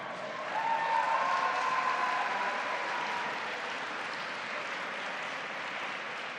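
Applause in the room at a governor's signing of the Clean Slate bill, a soft, smooth wash of many hands that swells early, then settles into a steady, somewhat distant patter.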